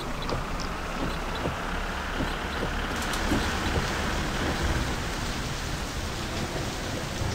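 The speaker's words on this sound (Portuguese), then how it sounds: "não dá pra ver nada, cara, com essa chuva" Steady rain in the video game My Summer Car, a dense even wash of falling drops that fills the whole stretch at a constant level, with no voices over it.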